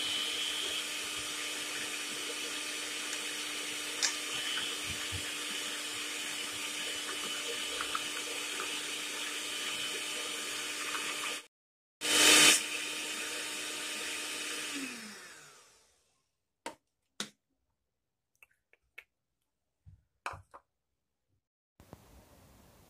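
An electric beater whisks eggs and sunflower oil for a wheat flour orange cake, a loud continuous whirring buzz that stops suddenly, restarts briefly, then winds down into near silence broken by a few scattered kitchen clicks and knocks.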